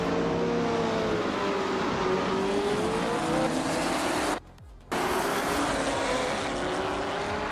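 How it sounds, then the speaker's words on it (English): A 1967 Mercury Cougar in a vintage Trans-Am class race roars at high revs, engine pitch wavering through gear changes, close and loud, cutting out abruptly for half a second before resuming. "Unistix is driving a 1967 Mercury Cougar in the vintage Transom class"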